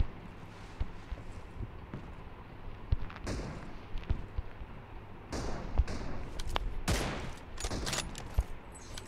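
Gunfire in the video game BGMI during a TDM match, with scattered loud shots and bursts over a constant background of game noise, sounding fairly close.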